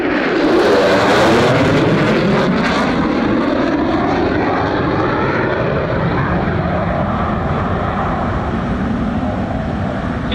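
An F-35B Lightning II jet roars loudly overhead at an airshow, its engine drone sweeping down in pitch as it passes and then steadily receding.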